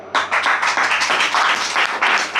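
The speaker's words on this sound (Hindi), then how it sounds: "बजाओ ताली।" A church congregation at a Sunday prayer service claps together in a quick, loosely rhythmic burst of sharp hand claps, close and loud, over a low steady hum.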